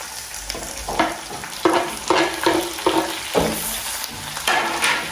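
Browned onions and freshly added tomatoes fry in a pan, a constant sizzle broken by a series of scraping stirs roughly every half second, close and fairly loud.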